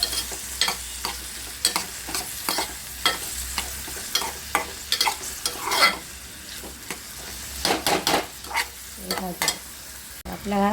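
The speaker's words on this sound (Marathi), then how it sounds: "कांदा आपला भाजला होता पूर्ण, त्यांना भाजून घेऊया" Onion, chilli, curry leaves and tomato sizzle in a pan while a spoon stirs them in repeated bursts of scraping and frying hiss, close by, with a few brief spoken words.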